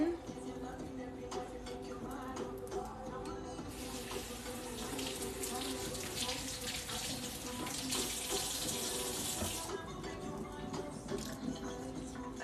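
Tap water runs into a sink as cilantro is rinsed, a steady hiss that swells for several seconds in the middle over a constant low kitchen hum.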